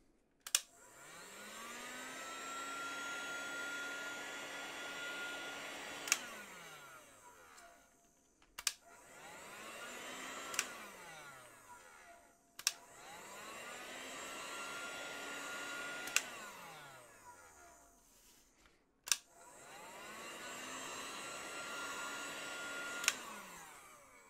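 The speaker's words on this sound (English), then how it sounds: "let's see what happens if I hit all of this with a heat gun" A heat gun blows over sealed EVA foam in four long bursts, each spinning up to a steady whirring roar and winding down again between clicks of the switch, close and loud with no talk.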